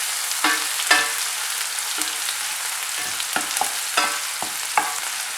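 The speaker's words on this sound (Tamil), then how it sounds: "வெங்காயம் வந்து ஒரு 2 நிமிஷத்துக்கு நல்லா குக் பண்ண விடணும்." Onions cooking in a hot pan for a quick rice dish give off a steady hiss, broken by a few sharp scraping clicks from stirring. No one speaks.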